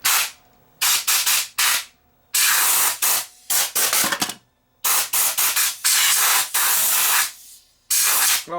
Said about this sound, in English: I'm going to go get my my air gun. We'll blow the dust out of here.